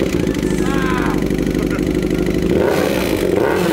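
A Honda Hornet motorcycle engine runs steadily and loud with an odd, irregular ticking clatter mixed into its low drone, while people talk over it.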